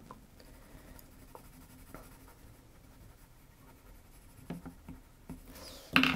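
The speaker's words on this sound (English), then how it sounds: "we'll colour her in pink. Again with these coloured pencils." Coloured pencil shading pink onto a paper lovebird card, a soft close scratchy rubbing with faint irregular strokes and a louder handling noise at the end.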